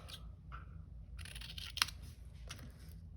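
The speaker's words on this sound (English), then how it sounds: "I'm gonna do one big stripe and then cut them into little squares." Scissors cutting a painted watercolor paper stripe into small squares for a collage, a few quiet close snips and crisp paper rustles in a short run.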